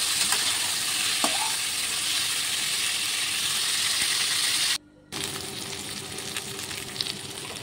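Cauliflower and potato frying in a pan with turmeric, chili and cumin, a steady loud sizzle with stirring, briefly cut to silence midway before the frying resumes.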